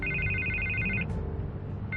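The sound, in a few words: telephone ringing in Batman: The Telltale Series video game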